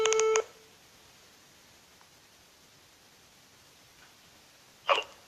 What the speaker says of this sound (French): je vais essayer de le rappeler